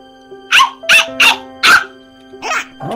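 A Minecraft dog barks four times in a quick, loud burst, then gives a softer yip and whine, close to the listener with a faint background tone underneath.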